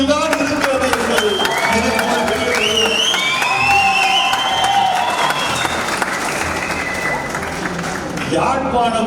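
A packed audience in Jaffna bursts into sustained applause and cheering for a Tamil speech, dense clapping rolling on without pause, with whistles and shouts rising above it.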